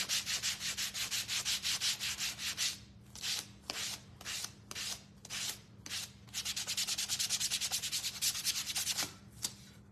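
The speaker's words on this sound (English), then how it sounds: "And we're just gonna sand it." A wooden gnome craft piece is hand-sanded with quick back-and-forth rasping strokes, close and fairly soft, in rapid bursts with brief pauses between sets and a low steady hum underneath.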